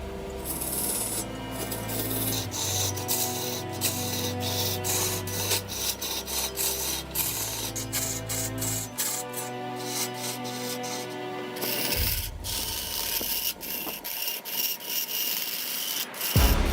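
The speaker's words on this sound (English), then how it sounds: "the wooden vase gradually emerges with each rotation as layers are skillfully carved away" A tree trunk turned on a lathe into a wooden vase, with steady scraping and rubbing as layers are carved away, busy and continuous with shifting tones from the spinning wood.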